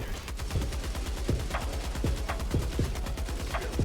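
Heavy machine gun firing in the video game Helldivers 2: a steady, continuous stream of rapid shots at moderate volume, with faint metallic impacts and clinks scattered through the burst.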